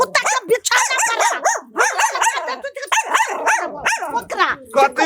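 A man imitates a barking dog with his voice, a run of loud, clipped yelps and woofs repeated rapidly one after another, close to the listener, with no real animal behind it.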